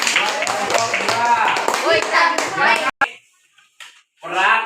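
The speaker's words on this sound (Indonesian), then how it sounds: "Saya tepuk tangan." Pupils in a classroom clap their hands for a group presentation, a quick burst of claps mixed with children's and a teacher's voices, then stopping abruptly.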